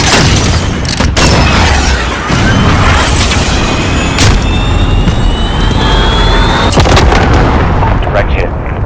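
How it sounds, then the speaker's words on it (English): Missile strike explosion in the video game Call of Duty: Modern Warfare: a loud, dense roar of blasts and rumble with several sharp impacts and a jet-like whine, sustained throughout. "Missile, go for launch. Mark on the grid. Send it."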